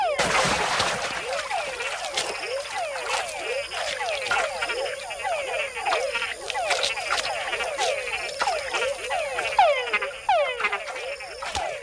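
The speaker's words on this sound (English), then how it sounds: "And with other bigger frogs nearby, a call can be a fatal attraction." Frogs in the Panamanian wild call near water in a rapid series of short, sweeping chirps, repeated many times in a dense, close chorus with faint splashing behind.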